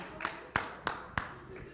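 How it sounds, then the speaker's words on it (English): A small audience gives a weak round of applause: four or five sparse, sharp claps spaced a few tenths of a second apart, thin and close rather than a full ovation. "That was a kind of a weak applause"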